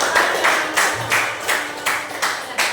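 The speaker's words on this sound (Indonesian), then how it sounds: "tepuk tangan untuk negara" Classroom students clap in unison, a rhythmic series of about eight evenly spaced loud claps in a steady beat, with faint voices underneath.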